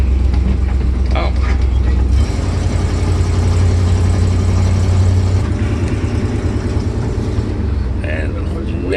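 A car engine idles with a low, steady rumble as the car pulls up in front of a house, loud and close throughout, with people talking over it.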